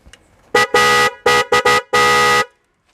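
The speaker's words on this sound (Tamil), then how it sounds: "இது ஹோல்சேல் போட ஒரிஜினல் ஹாரனு." A motorcycle horn with a copper coil honks five times in an uneven pattern, mostly short blasts ending in a longer one, loud and close.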